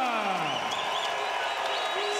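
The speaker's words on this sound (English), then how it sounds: "Sébastien Bouchard getting the biggest round of applause thus far in Quebec City" A crowd at a boxing event in Quebec City applauds boxer Sébastien Bouchard, a dense and steady roar of clapping that runs throughout beneath an announcer's voice.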